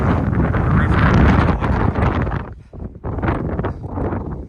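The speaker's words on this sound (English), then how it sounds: "It is so cold and windy right now" Strong, cold wind at a rocky overlook buffets the microphone in heavy rumbling gusts, easing briefly then picking up again, loud and close throughout.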